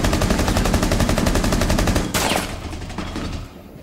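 Rapid automatic gunfire in Rainbow Six Siege, a fast, loud, even burst of shots lasting about two seconds, then a sharp crack and quieter scattered sounds with a fading tail.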